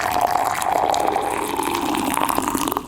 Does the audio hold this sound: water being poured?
yes